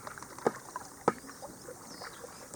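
A kayak paddle dips into water twice in a quiet setting, two soft, distinct splashes about half a second apart over faint ambient hiss.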